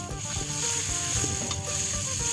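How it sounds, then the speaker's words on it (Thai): Crocodile meat sizzles and is stirred in a pan with a little water, a dense continuous frying hiss broken by scraping strokes of the spatula, close and loud with no talking. "หลังจากนี้เราจะค่อยๆผัด จนเนื้อไอเค้ของเรา สุกเลยนะครับ"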